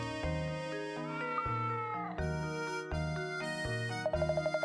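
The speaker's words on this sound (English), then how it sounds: "What's this cat doing here?" A cat meows repeatedly in the Professor Layton and the Curious Village HD video game, several drawn-out, tonal cries following one another, clear and close with no talking.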